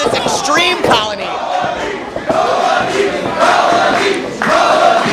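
A wrestling arena crowd roars and shouts in loud bursts, rising and falling with a few louder swells, while a commentator talks over it.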